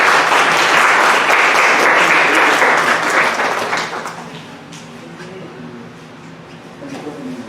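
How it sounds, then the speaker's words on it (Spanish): Audience applauding a clinical medicine professor at a lecture, loud sustained clapping from many hands that fades after a few seconds into quieter room noise. "Démosle un fuerte aplauso a nuestro profesor."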